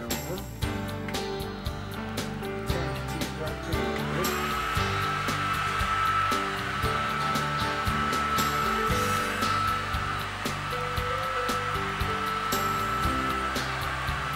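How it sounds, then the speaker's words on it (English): A hair dryer blows steadily over a freshly painted Broadway Limited NYC J-1e Hudson steam locomotive model, a continuous close whirring hum that starts with a few clicks and then holds at an even level throughout. "I'm going to run the hair dryer over"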